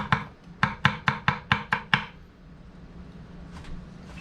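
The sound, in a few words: Dao Vua nakiri knife chopping on a board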